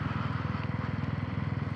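Kawasaki W800 motorcycle on the move, its engine a steady low rhythmic thrum with regular pulsing, close and continuous throughout, no gear-change clunk standing out clearly.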